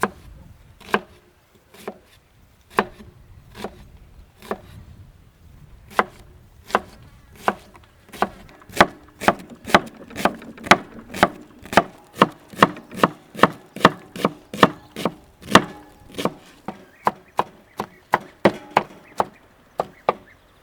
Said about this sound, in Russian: Нарезаем кубиком.